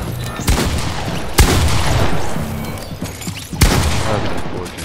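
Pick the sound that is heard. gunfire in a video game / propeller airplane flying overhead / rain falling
gunfire in a video game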